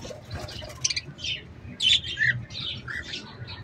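Hagoromo canaries chirp and squawk in a series of bright, close calls over a low background rumble, with several sharp squawks clustered in the middle.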